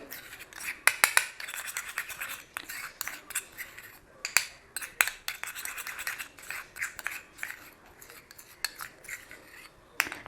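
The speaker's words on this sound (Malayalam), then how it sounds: "അതിനുശേഷം ഇത് രണ്ടും കൂടി നന്നായിട്ടൊന്ന് മിക്സ് ചെയ്ത് കൊടുക്കാം." A spoon or spatula stirs two face pack ingredients into a cream inside a small bowl, giving quick irregular clinks and scrapes close up with brief pauses between strokes.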